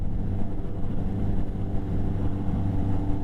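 A 1981 Yamaha XS1100 Midnight Special motorcycle engine drones loudly inside a tunnel, a dense, steady low rumble reverberating off the walls with no clear rev peaks and no speech.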